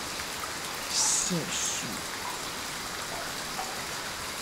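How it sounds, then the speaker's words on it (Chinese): Steady rain falls in a continuous hiss through a drama scene, while a voice speaks briefly over it. "哎，别，等雨停了再走吧。"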